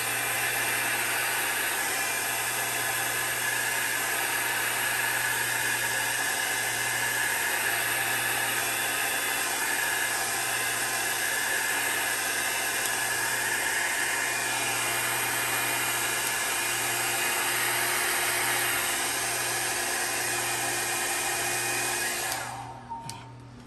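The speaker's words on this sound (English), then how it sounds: "you'd think by now I would be used to not turning off the switch on my dryer" An electric dryer blows steadily on alcohol ink art for over twenty seconds, a loud continuous whooshing hum with a low motor drone underneath, cutting off abruptly near the end.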